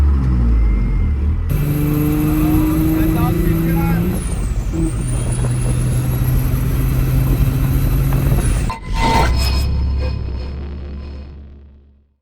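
A tuned second-generation Cummins diesel truck running a max-effort tune accelerates hard, its loud engine drone rising steadily through the gears with turbo whistle on top, then a brief shift gap, a renewed pull, and a fade as it eases off.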